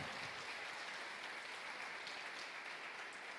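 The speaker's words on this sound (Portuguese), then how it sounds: "Meu querido, pode aplaudir o Senhor." Steady applause from a church congregation during a sermon, a dense continuous wash of clapping held at an even level throughout, no voices on top.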